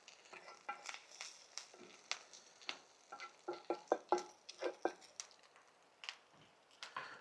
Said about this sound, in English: We're going to go ahead and fry up an egg to top this off with.